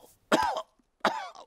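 A cartoon character coughs twice in an Italian children's animated episode, two short, distinct barks separated by a brief pause, close and clear with no other sound.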